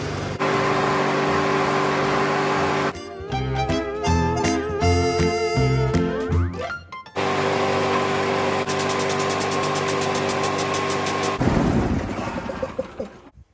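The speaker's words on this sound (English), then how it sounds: "Slowest compressor known to man." A slow air compressor runs with a loud, steady mechanical drone. It cuts out briefly, restarts, and shifts in pitch before a rougher final stretch, with no voices over it.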